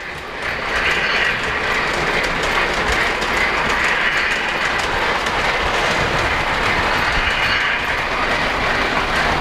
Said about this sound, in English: we've got trains running on the upper level and the lower level.